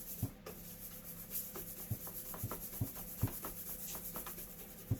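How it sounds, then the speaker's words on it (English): Cleaning paste rubbed back and forth into burn marks on the plate of a clothes iron, a soft, steady scraping rhythm with regular strokes, quiet and close. "So I'm going to rub that into the divots."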